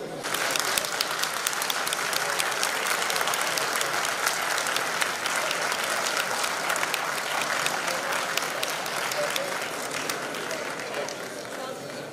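A large audience at the Altın Kelebek award ceremony applauds steadily, with dense sustained clapping that eases slightly toward the end.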